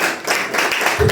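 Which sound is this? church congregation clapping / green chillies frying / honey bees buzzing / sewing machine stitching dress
church congregation clapping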